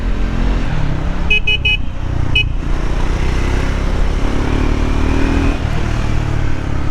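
A Triumph Scrambler 400 X motorcycle weaving through city traffic, its engine a dense continuous drone amid road noise, with several short car-horn toots from nearby vehicles.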